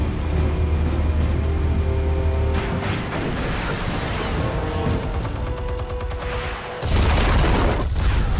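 A loud explosion in Batman: The Telltale Series, a heavy low boom rumbling at the start, easing through a dense mid-section of crackling game noise, then booming again near the end.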